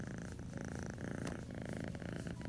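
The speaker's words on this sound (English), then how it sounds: "Listen to him purr." A cat purrs close and continuously, a soft, rhythmic rumbling motor sound with no other noises.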